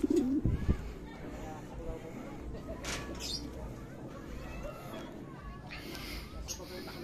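Racing pigeons coo softly, low and throaty, at a long-distance derby loft while people talk nearby over steady background noise.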